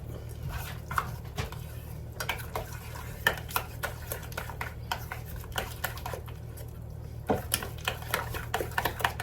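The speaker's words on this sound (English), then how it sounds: "Let me just grab a spoon. And we're gonna mix it up." A spoon stirs a bowl of tzatziki, making irregular clicks and taps against the bowl with soft wet smearing between them. The sound is close and fairly quiet, and no one speaks.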